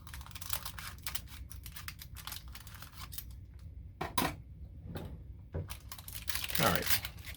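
Close, crisp snips and crinkling of plastic as scissors cut through packaging in quick irregular bursts, with a few soft rustles between.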